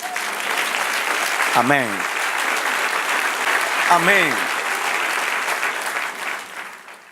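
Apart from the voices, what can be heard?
church congregation applause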